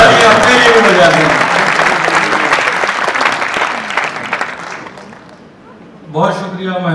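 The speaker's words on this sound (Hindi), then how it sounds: "दो दिन ताली अपने लिए भी बजा दें।" Loud, dense audience applause at a poetry recital in Jaipur rolls continuously, then fades away before a voice begins speaking at the end.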